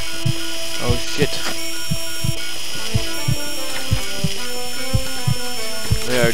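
Surgical drill biting into bone in Surgeon Simulator, with repeated clicking, ratcheting bursts over a sustained whining mechanical tone that shifts pitch as it works, loud and close.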